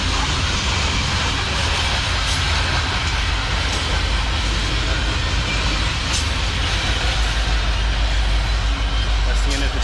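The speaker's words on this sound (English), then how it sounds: "A coal train with a beautiful bronze color" A long coal train passes close by in a small town in Stockbridge, Georgia, a loud steady rumble and roar of rolling freight cars that holds without a break.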